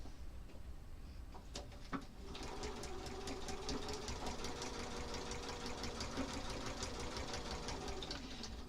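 A sewing machine runs steadily, stitching through the crossing seams of a quilt block with a fast, even whirr. A few faint taps come before it starts, then it continues without a break to the end, close and moderately loud.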